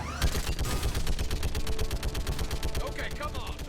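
Rapid, continuous turret gunfire in Mass Effect 3 hammers out in a fast, even stream of loud close shots that does not let up.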